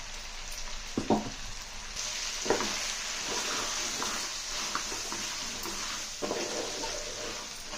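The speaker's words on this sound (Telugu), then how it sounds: "జీడిపప్పు కొబ్బరి రసాలు టమాటా ముక్కలు ఈ పేస్ట్ మొత్తం దీనిలో వేసి చక్కగా కలిపేద్దాం" Cashew, coconut and tomato paste being stirred into a country chicken curry frying in a pan, with a steady sizzle broken by several scraping stirs of a spoon, close and moderately loud with no talk.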